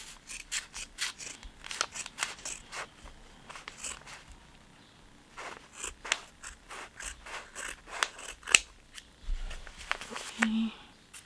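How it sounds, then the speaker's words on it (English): Scissors snip through quilt batting for a lined zipper pouch, a steady run of close, crisp cuts with short pauses between them, and faint handling noises in the gaps. "so now we're ready to cut the batting"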